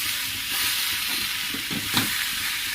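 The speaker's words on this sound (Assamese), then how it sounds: "পাচলিখিনি অলপ সিজাৰ পিছত এতিয়া বিলাহী দি দিছোঁ" Vegetables stir-fried in a pan with cauliflower after tomatoes are added, giving a steady close sizzle and hiss with a few scraping stirs near the two-second mark.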